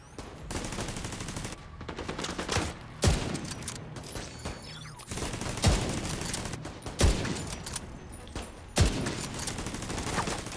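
Turret gunfire in The Division 2 video game: repeated rapid bursts of automatic fire with sharp heavy shots standing out every second or two, fairly loud over game noise.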